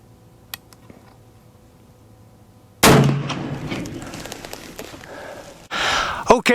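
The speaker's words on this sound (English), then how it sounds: "First shot ever through this rifle" A single loud rifle shot from a Wyoming Armory custom 1885 single-shot rifle at a range, a sharp blast with a ringing decay, followed moments later by a second burst of noise; faint clicks precede it.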